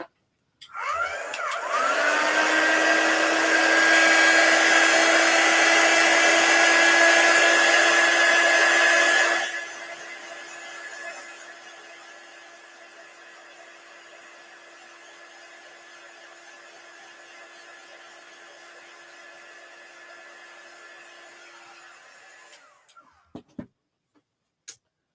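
Hair dryer drying chalk paste on a silk screen: switched on with a click, blowing loudly and steadily at first, then dropping to a quieter setting and running on evenly before clicking off, no talk.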